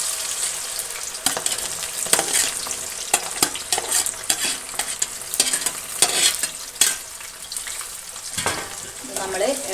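Jaggery-coated banana chips (sharkara varatti) are stirred in a pan over full flame, a continuous sizzle broken by repeated scraping and clattering strokes of the spoon at an irregular rhythm.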